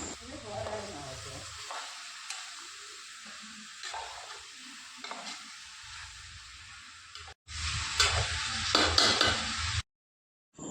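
Chicken stirred with turmeric and salt in a pan, with soft scraping and intermittent sizzling, a break of near silence, then a louder burst of frying noise before cutting out.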